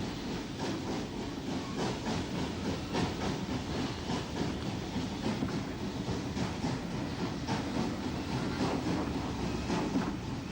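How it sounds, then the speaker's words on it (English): Steam locomotive WT number 53 pulls a branch train out of Gora Wood station in Ulster in 1964, its rapid, rhythmic chuffing and rattling wheels continuing steadily at close range without any talk. "WT number 53 was in charge of the branch train, seen here leaving Gora Wood"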